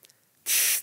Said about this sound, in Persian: اسپری ضد FBI زدم